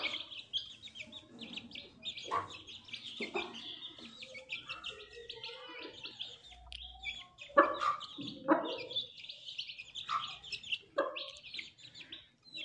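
Aseel chicken chicks, a brood of five from one hen, peeping in high, rapid bursts, close and fairly faint, with short gaps between clusters of calls.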